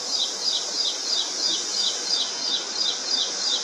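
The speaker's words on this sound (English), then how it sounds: "that sweet bird song that you hear at the start of the year" Spring bird song plays as a rhythmic series of high, evenly spaced chirps, repeating about three times a second over a constant hiss.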